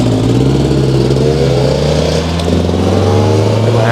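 A motorcycle with a quick shifter accelerates hard on the throttle, its engine note climbing steadily and loudly with a brief dip suggesting a quick upshift, heard up close with no talk.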